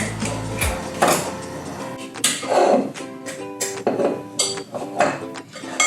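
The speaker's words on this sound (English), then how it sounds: "Now we're gonna mix this well." Scone dough being mixed in a bowl for state fair Fisher scones, with irregular clinks and knocks of a utensil against the bowl, close and fairly loud, with scrapes between the sharper hits.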